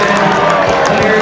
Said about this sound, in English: Everyone is cheering for that